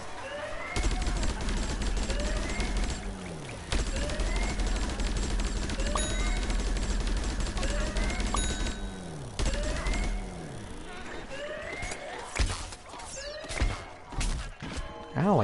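Rapid bursts of cartoonish gunfire and blasts from Plants vs. Zombies Garden Warfare 2 multiplayer, with repeated shots, impacts and swooping effects piling up loudly and densely through the whole stretch.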